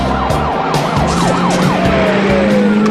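A yellow Camaro tears through a high-speed police pursuit with tires skidding, under a loud wailing police siren that sweeps up and down and then settles into a long steady tone, with roaring engine noise throughout and no talking.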